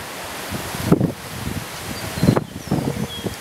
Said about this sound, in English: pardon the wind. It's really bad today.